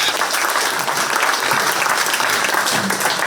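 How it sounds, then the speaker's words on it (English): Loud, sustained applause from a large crowd at a 4-H swine show at a county fair, steady clapping filling the whole moment with no voices standing out. "please give them all a big round of applause"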